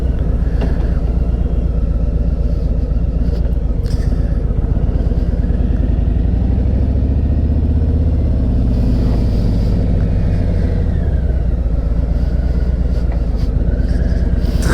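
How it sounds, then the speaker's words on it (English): Harley-Davidson Road King motorcycle cruising without a windshield on an evening ride, its deep engine rumble loud and constant throughout, with pitch shifting as the rider changes speed and wind buffeting over the top. "It feels so good to ride this thing. Good old Road King."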